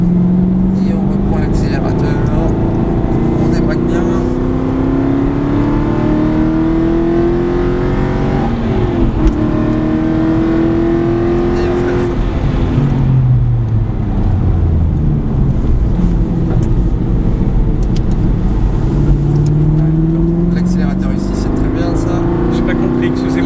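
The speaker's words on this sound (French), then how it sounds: "Et on reprend l'accélérateur." Car accelerating and braking around a race track hairpin, engine pitch climbing in repeated sweeps as throttle is reapplied, close and loud, with someone talking over it.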